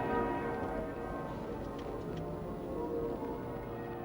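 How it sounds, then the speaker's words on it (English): Muffled church bells of St. Paul's Cathedral in London peal steadily at a funeral, rung by bell ringers high above the church and heard as a dense, continuous wash of overlapping strikes. "The muffled bells of St. Paul's, rung by the ancient society of college youths, the bell ringers of the cathedral, ring out now high above the church over London"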